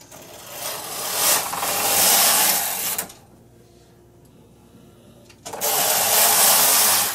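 Domestic knitting machine carriage dragged across a neckband row, a loud rasping, whirring slide lasting about three seconds, a brief pause, then another loud pass starting again near the end.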